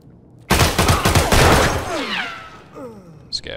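A loud burst of rapid automatic gunfire from Escape From Tarkov on the Factory map, with close sharp shots that trail into a reverberant tail as a faint voice follows.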